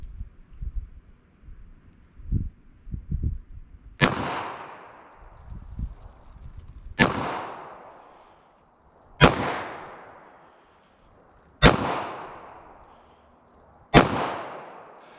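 .38 Special revolver fired at a paper target at a shooting range: five sharp, loud shots spaced two to three seconds apart, each ringing out briefly, with some light handling clatter before the first.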